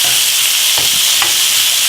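Thin pork pieces for pork piccata sizzling in a pan, a loud steady hiss close up with a couple of faint pops, with no talk.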